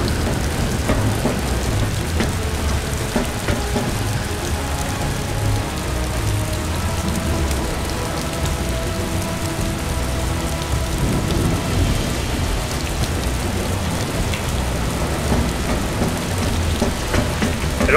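Heavy rain from a thunderstorm in the video game Predator Concrete Jungle pours steadily, with rolling thunder rumbling underneath, dense and continuous for the whole stretch with no talk.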